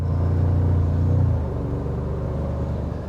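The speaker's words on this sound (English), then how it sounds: "And let you listen to the motor a little bit." Steady low rumble of a 2025 Toyota Tacoma TRD Pro engine heard from the cabin, a droning idle that eases down slightly partway through and settles into a softer, even hum.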